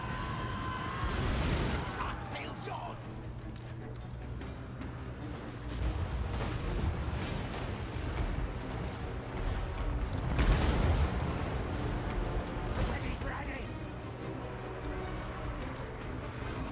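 Artillery firing in a strategy video game: a few deep, rumbling booms spaced several seconds apart over a steady low battle din, moderately loud, with no clear talk over them.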